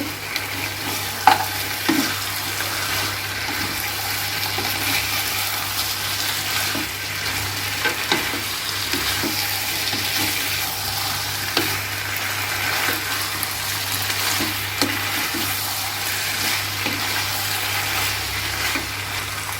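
Shukto vegetables with bori and a little water sizzle in a pan while being stirred and mixed, with a continuous close frying hiss and scattered light scrapes throughout.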